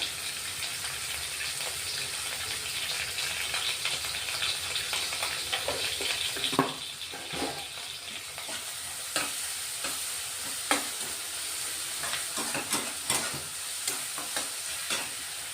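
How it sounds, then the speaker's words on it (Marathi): Sliced onions sauté with salt in a pan, giving a steady close sizzle under irregular scraping and clacking from a spoon stirring them around. "कांदे थोडे परतून झाले थोडे तांबूस रंगाचे झाले"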